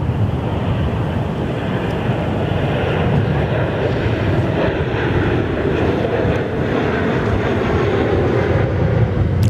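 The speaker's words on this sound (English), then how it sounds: "Just on screen now, another Virgin 737, the second of the consecutive VA73s that we've just captured." A Virgin Australia Boeing 737-800 jet at Perth Airport, giving a continuous loud, broad engine roar that holds steady for the whole stretch without breaks or voices.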